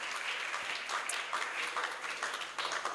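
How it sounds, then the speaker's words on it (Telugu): Audience at a church birthday celebration for a Reverend Father claps steadily for a guest, a dense and even burst of applause from many hands, fairly close. "ప్రశాంత్ గారికి కూడా ఒక్కసారి చప్పట్లు కొడితే"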